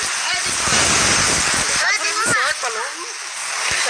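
Hailstones drum and spatter on an umbrella in a dense, continuous patter, close and loud, with a person talking over it partway through.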